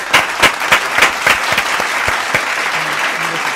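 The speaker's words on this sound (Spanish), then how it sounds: "Recibamos con un fuerte aplauso" Loud applause from a live show audience welcoming guests, with distinct sharp claps standing out over a dense steady clapping crowd and a few faint voices mixed in.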